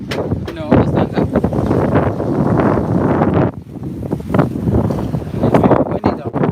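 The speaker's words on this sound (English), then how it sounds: "It's very windy though." Heavy wind buffets the microphone with rumbling gusts, while a person talks underneath the roar.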